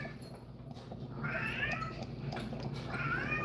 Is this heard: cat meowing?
yes